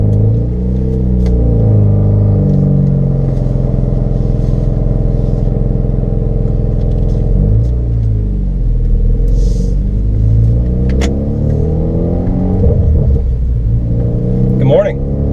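A car engine rumbles low and steady through its exhaust as the car pulls out, close and continuous, with slight shifts in pitch as it moves off.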